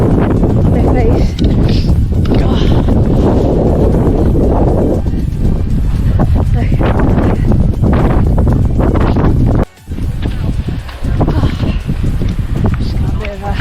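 Strong coastal wind on the Cornish coast path between Marazion and Land's End roars and buffets the microphone in a loud, continuous rush, dropping out briefly near the end before gusting back in.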